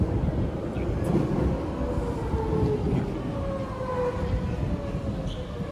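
An Amsterdam metro train arriving at a station: a rumbling, rolling rush of wheels on rails with rising and falling metallic squeals and whines, fairly loud and continuous throughout.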